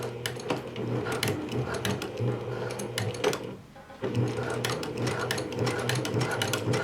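A sewing machine stitches a seam on a pair of pants, its motor whirring steadily and close, with a brief slowdown and pause midway before running on at full speed.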